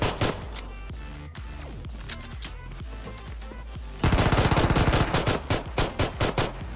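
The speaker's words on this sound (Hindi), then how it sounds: "अब पिस्टल से देखो कैसे मारते हैं।" Gunfire from a mobile battle royale game, starting as scattered single pistol shots and then turning into a dense burst of loud, rapid rattling shots that slows to spaced cracks near the end.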